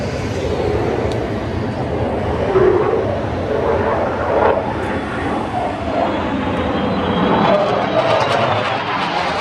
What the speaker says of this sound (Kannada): ಅಮೆರಿಕದ ಫೈಟರ್ ಜೆಟ್ಗಳು ಮತ್ತು ದೊಡ್ಡ ಬಾಂಬರ್ ವಿಮಾನವು ರೊಯ್ಯನೆ ಹಾರಿ ಹೋದವು